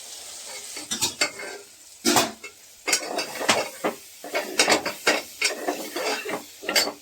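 Soybeans go into a frying pan and get stirred, with repeated scraping and clattering of a utensil against the pan in uneven bursts over a soft sizzle, close and fairly quiet, no voices.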